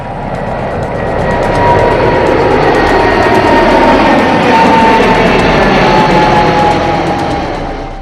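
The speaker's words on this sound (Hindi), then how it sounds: "रनवे पर थोड़ी ही देर में विमानों ने रफ्तार पकड़ी और आसमान नापने उड़ चले।" Passenger jets speeding down the runway at Delhi Terminal 3 airport and lifting off, a loud, steady engine roar that swells and holds with a broad rushing whine, close and sustained.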